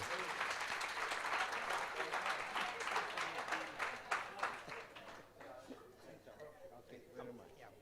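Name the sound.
audience applause at a conference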